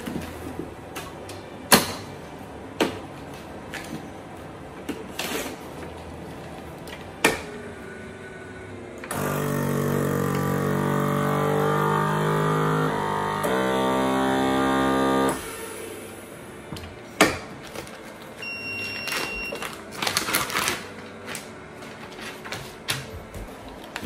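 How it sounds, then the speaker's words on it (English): A vacuum sealer making a bag for a piece of meat before sous vide cooking, a steady mechanical motor hum lasting several seconds, with clicks and bag handling before and after, close and alone. "we're gonna vacuum seal this piece of meat to get it ready to go. First, we're gonna make the bag."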